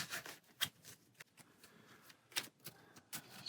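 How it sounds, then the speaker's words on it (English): Playing cards are shuffled at a table during a solo board game session, a quiet run of crisp riffling snaps and flicks in short irregular bursts, close by and with no voices. "And we're shuffling over here."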